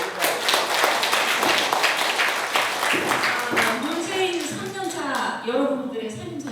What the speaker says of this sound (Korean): 박수 한번 부탁드립니다. 박수.